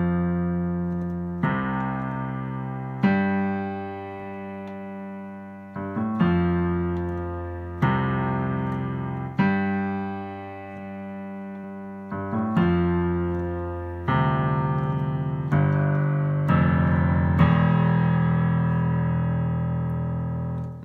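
Piano left-hand chords from twenty one pilots' Migraine, played alone in a steady sequence of sustained chord changes roughly every one and a half seconds, ringing out at the end.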